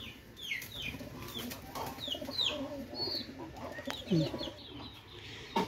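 Pakistani Teddy pigeons in a busy bird market or loft, with soft low cooing amid a dense chorus of chirps, whistles and clucks from many birds close by, continuous and fairly loud throughout.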